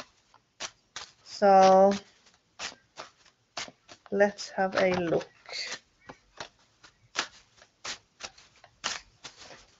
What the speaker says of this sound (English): I'm just shuffle the cards